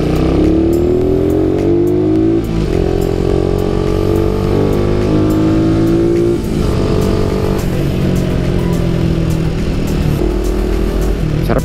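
Suzuki Raider 150 Fi motorcycle riding in second gear, its engine droning loud and steady throughout, the pitch rising and falling as the throttle eases on and off, with no voices.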